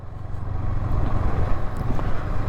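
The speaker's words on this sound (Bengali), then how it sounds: "দারুণ হাওয়া বইছে, দারুণ।" Strong wind gusting across the microphone, producing a continuous low rumbling buffet that swells and dips without pause.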